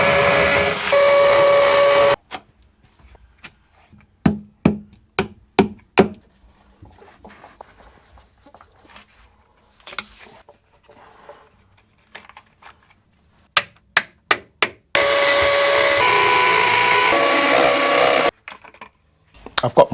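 Power drill boring into a wall for wall plugs, two long loud bursts of steady drilling at the start and near the end, separated by a quieter stretch of scattered knocks and clicks.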